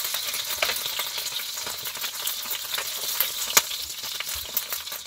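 Chicken pieces frying in a pan give a steady, close sizzle and crackle with scattered spatter pops throughout, without any voices.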